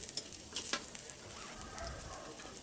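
Chicken liver stirred in a pan with plenty of hot oil: a dense, steady sizzle with a few scraping stir strokes near the start, close and moderately loud, no voices.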